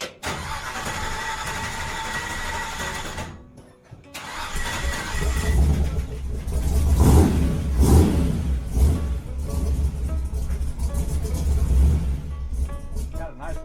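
A 1965 Chevy 283 V8 engine turns over, then fires up, with an uneven cranking whir that breaks off into a brief pause, followed by a loud, lumpy idle with throttle blips that settles into a steady run.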